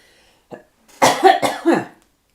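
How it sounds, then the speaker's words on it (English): A short burst of several close, harsh coughs in quick succession after a faint sound, followed by silence. "I hope you didn't pick that cough up too much."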